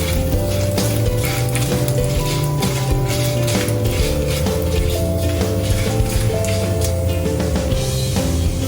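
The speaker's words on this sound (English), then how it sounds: "Fry it until the mustard seeds starts spluttering." Mustard seeds and a pinch of asafoetida spluttering in hot oil during tempering, a steady crackling sizzle with scattered pops, close and continuous, with soft music running underneath.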